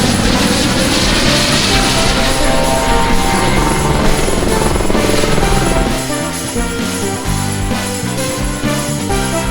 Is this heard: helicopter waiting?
yes